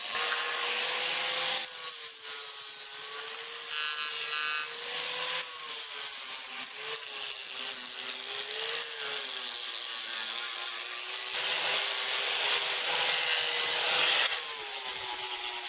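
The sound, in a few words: small 4-inch sander cleaning up a log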